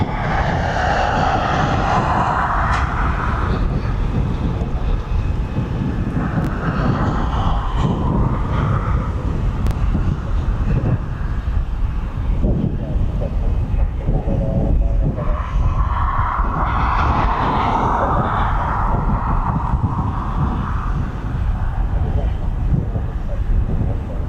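A Jet2 airliner departing East Midlands Airport roars steadily as a broad engine rumble, swelling and fading in waves under gusty wind buffeting the microphone, with occasional voices in the background.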